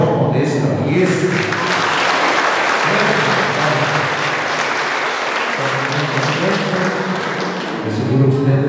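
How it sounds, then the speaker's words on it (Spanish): Loud crowd applause at an annual town fair honoring the festival steward, dense sustained clapping close by, with an announcer's voice and background sounds running under it. "Fuerte el aplauso también para el mayordomo de esta fiesta."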